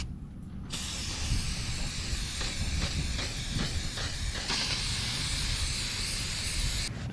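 A K&N air filter is sprayed with filter oil, a steady close hissing spray with a few brief rhythmic pulses, starting abruptly and cutting off at the end, no talk.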